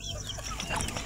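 Hens cluck close by in a short, busy burst, several soft clucks overlapping against a slightly noisy yard background.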